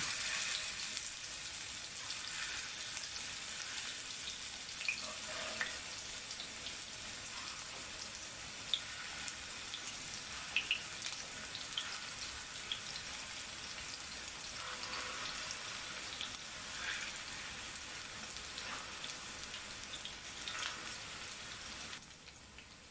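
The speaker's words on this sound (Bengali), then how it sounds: "কোফতাগুলো আমি হালকা করে ভেজে নেব।" Chicken kofta balls sizzling in hot oil in a frying pan, a steady broadband crackle and hiss that runs almost unbroken, with a few brighter pops scattered through it and no voices.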